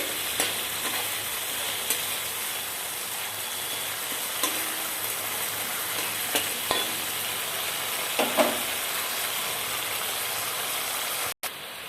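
Ground spices (turmeric, chilli, salt and paste) frying in a pan for Bengali rui fish curry, a steady soft sizzle with occasional stirring clicks, alone and fairly close throughout.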